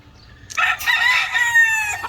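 A Red and Mt. Banahaw line broodstag rooster crows once, loud and close, a single drawn-out call following a moment of quiet farmyard background.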